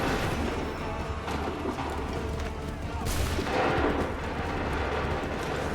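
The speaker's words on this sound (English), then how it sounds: "Open fire." Volley of musket gunfire in the video game Assassin's Creed 3, a dense rumbling barrage with a louder burst partway through, layered over continuous battlefield noise and faint voices.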